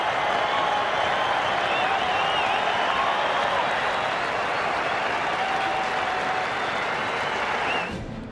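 A large cricket crowd at an Ashes Test in Perth cheers and applauds Mitchell Johnson, a sustained, loud roar of clapping that holds steady for several seconds before easing off at the end.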